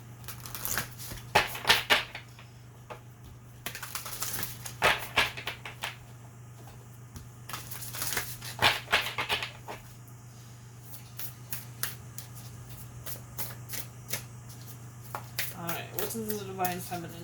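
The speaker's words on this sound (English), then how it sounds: "Let's shuffle one more time. Get these cards loosened up a little bit." Tarot cards riffled and shuffled in repeated bursts of crisp flapping and slapping, with soft talk and a steady low hum underneath.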